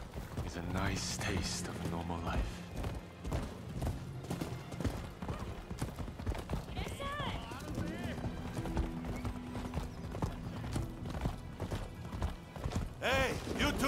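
Horse hooves clip-clopping in the Rise of the Ronin video game, a steady rhythmic trot under game music and talking voices, with a brief whinny.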